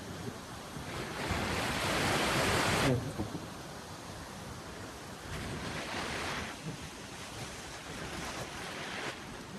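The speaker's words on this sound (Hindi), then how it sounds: "और ये नदी का रौद्र रूप पूरा" A fast, turbulent mountain river along the Madhyamaheshwar trek rushes with a loud, continuous hiss and roar, surging in waves, while faint voices occasionally sound under it.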